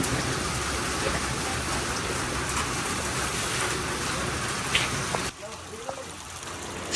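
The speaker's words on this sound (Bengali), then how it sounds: "অনেক বৃষ্টি বৃষ্টি নামছে থামার কোনো উপায় দেখছি না রিমঝিম বৃষ্টি পড়ছে" Steady rain falls in a continuous broadband patter and wash, then drops off sharply near the end, leaving quieter ambience with a few faint sounds.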